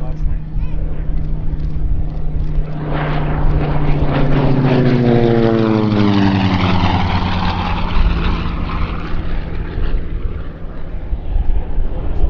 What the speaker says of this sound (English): Let's listen to the sound of that Wright Cyclone engine.